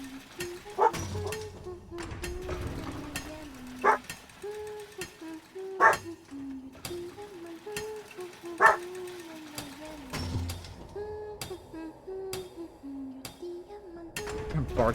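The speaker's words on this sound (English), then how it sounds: "barking at my neighbor behind the house" A dog barks intermittently at a neighbor behind the house, sharp yips and barks spaced a couple of seconds apart, moderately distant, over a low droning background with a faint tonal hum.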